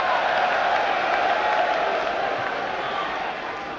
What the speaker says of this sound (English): I do not think it deserves clapping